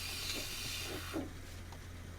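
Steam wand on a Bellman CX25-P stovetop espresso maker, used inside a VW California campervan, gives a steady soft hiss as it starts to steam, quiet and close with a few faint knocks.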